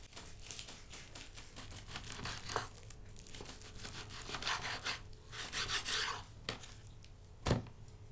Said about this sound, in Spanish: También estamos cortando la carne.